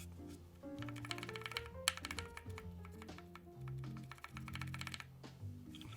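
Mechanical keyboard switches with rattly springs being pressed repeatedly during a keyboard build, giving close, fast clusters of clicky taps and light plastic clatter with a faint metallic ring.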